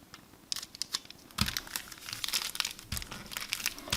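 Hot fix tape crinkling and tearing while being handled for a rhinestone transfer, a close series of crisp plastic crackles and rips with a louder burst midway.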